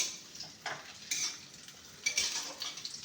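A spoon scrapes and clinks against a pan as chopped green chili is stirred into fried rice, giving a few sharp metallic taps and scrapes with quiet gaps between.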